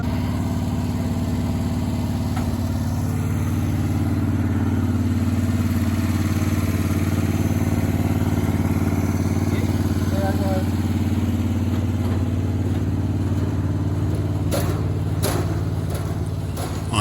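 Roll-forming machine rolling out 24 gauge steel for a standing seam roof, a steady loud low mechanical drone with a few clanks near the end, under intermittent talk.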